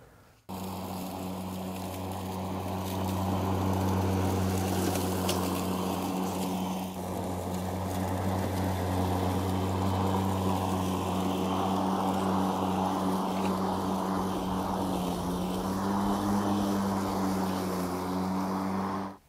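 EGO Select Cut XP 21-inch self-propelled 56V battery mower running with side discharge, a steady loud whirring hum of the spinning blade sustained throughout without a break.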